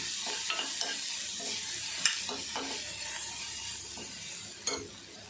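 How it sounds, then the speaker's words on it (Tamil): Jackfruit pieces sautéing in oil in a pan, a continuous soft sizzle broken by several scraping stirs and a couple of light utensil knocks, close and without talk. "இப்போ நல்லா எண்ணெயில் நம்ம வதக்கிட்டு இருக்கோம்"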